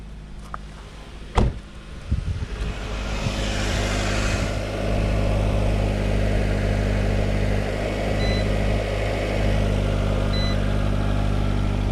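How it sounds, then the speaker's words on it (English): A Nissan Rogue with a newly installed alternator cranks over after a few clicks and knocks, catches, and settles into a steady, close, low engine idle that runs evenly to the end with no talk. "we'll start the vehicle up, let it run, and we'll do the alternator test"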